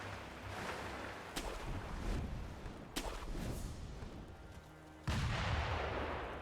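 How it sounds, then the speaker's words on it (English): Enemies fire in a video game: sharp scattered gunshots and booming blasts crack at irregular intervals, fairly faint and set against a low, muddy game backdrop. "They're still shooting at me."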